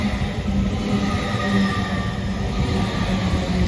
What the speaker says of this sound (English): Arriving in now is the 1655 Great Western Railway service to Cardiff Central from London Paddington.